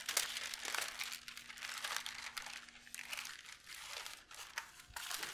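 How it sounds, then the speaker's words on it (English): Parchment paper crinkles and crackles steadily over a keto chocolate pecan tart crust as it is covered and rolled out, a close, continuous rustle with no talking. "we are going to cover this with another piece of parchment paper and roll it out round"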